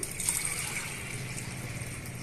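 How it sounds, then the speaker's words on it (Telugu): Water is poured into a pot of washed toor dal, a faint, soft trickle and splash heard close for a couple of seconds. "ఇప్పుడు ఇందులోనే మంచినీళ్ళు పోసుకొని"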